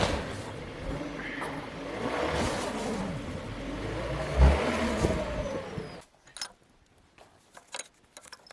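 A Subaru all-wheel-drive car stuck off-road with its rear suspension arms sitting low, engine revving hard and straining for several seconds, then cutting off abruptly, leaving faint ticks and small knocks.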